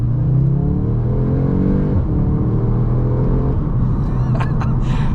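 A 2024 Audi S3 pulls hard from 25 to 60 mph in manual mode, its engine note climbing loudly through the revs, dipping at a gear change, then rising again inside the cabin.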